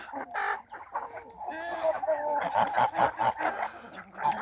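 Chickens cluck and chatter in a poultry yard with Mechelen Cuckoo hens nearby, busy overlapping calls close up, while a voice speaks briefly and a dog barks.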